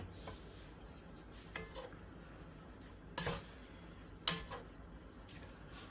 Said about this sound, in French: Allez, je rallume mon feu, à feu très doux, feu doux, et je vais mélanger